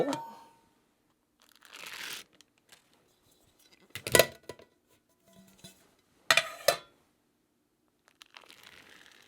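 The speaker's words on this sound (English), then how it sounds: "Now, we'll just flip these cakes out and let them cool." Maple walnut cakes are turned out of their baking pans, with several separated bursts of crinkling, scraping and clattering handling noises broken up by near silence.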